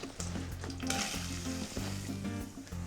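Onions sizzling in a hot pan with a tablespoon each of olive oil and butter, a steady close frying hiss with light stirring throughout, no talking.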